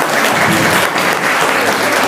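Audience applause at a Teachers' Day celebration, a steady, dense burst of clapping from a large crowd filling the hall for the whole moment with no voices above it.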